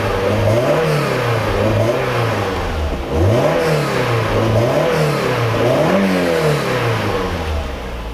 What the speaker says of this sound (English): This car is buttery smooth. Listen to that motor.